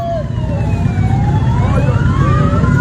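A siren wails in long rising and falling sweeps over a steady roar of motorbike engines at the start of a cross country race, loud and continuous throughout.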